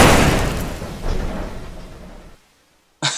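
A car in the BeamNG driving game crashes and pancakes with a heavy burst of impact noise that fades out, swells again with a second rumble, drops to near silence, then cuts back in with a sharp crunch.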